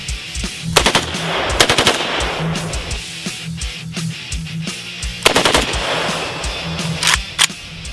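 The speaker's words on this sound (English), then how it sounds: "I think this gun's gonna be a lot of fun to shoot" A short-barreled AK rifle fires close and loud in quick automatic bursts and rapid single shots, sharp cracks repeating across the stretch with brief gaps between strings.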